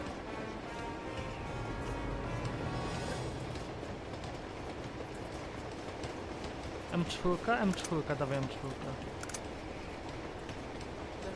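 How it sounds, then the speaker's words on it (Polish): In Uncharted 2, a moving train rumbles and rattles with a steady low roar and clatter, while a voice speaks over it and a few sharp metallic clanks cut through near the end. "Pociąg jedzie i jedzie!"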